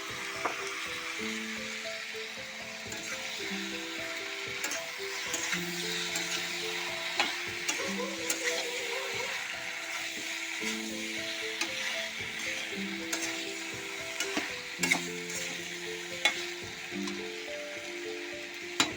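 Shrimp, pointed gourd and potatoes stir-fried together in a pan give a steady, soft sizzle with occasional scraping of a spatula, all under continuous background music.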